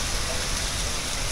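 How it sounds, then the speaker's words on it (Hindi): Very heavy rain pours down on a street in Hisar, Haryana, with fast-flowing floodwater rushing through the lane; a dense, steady roar fills the whole clip without a break. "बारिश कितनी तेज़ है मैं तो बता ही नहीं सकता इतनी तेज़ बारिश है"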